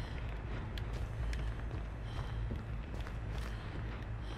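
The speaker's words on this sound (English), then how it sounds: "Oh, I hear the little footsteps." A survivor's running footsteps patter quickly and steadily in Dead by Daylight, close and continuous over a dense rumbling game background.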